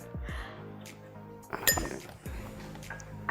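Glasses clink together in a toast at a television studio gathering, a few bright chiming taps standing out around the middle, with quiet room sound and faint voices between them.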